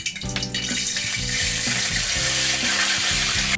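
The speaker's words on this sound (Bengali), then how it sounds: "এখন একটি কড়াইয়ে সরিষার তেল গরম করতে দিয়ে আমি গরম মশলা এর মধ্যে দিয়ে দিচ্ছি" Whole garam masala sizzling in hot mustard oil in a wok, a loud steady hiss with spattering and light stirring knocks, no voices.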